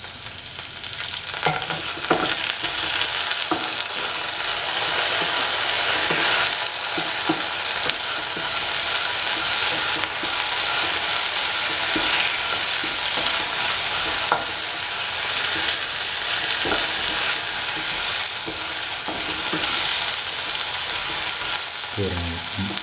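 Chilli taro root (colocasia) stir-fries with soy sauce in a pan, a loud continuous sizzle with repeated scraping stir strokes throughout, ending in a clatter of the utensil.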